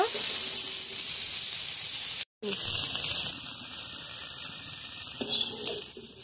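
Fresh pond fish frying in oil in a kadai, a steady broadband sizzle and hiss that cuts out briefly partway through, then resumes close and loud with faint background clatter.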